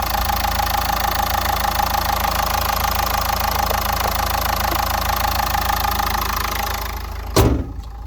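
The 1.5-litre 110 hp diesel engine of a 2012 Nissan Qashqai with 177,000 km idles with a steady rumble at close range, with a brief louder knock or clunk near the end.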